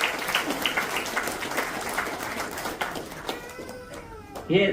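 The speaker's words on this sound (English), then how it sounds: "Please give a bigger round of applause." Applause from a crowd at a public event in Panaji, a dense patter of clapping that fades over a few seconds, with faint voices and noises at the end.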